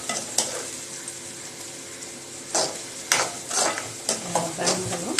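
Vegetables sauté in a pan with a close, crackling sizzle, broken by several loud bursts of stirring and metal scraping toward the end, with no voices.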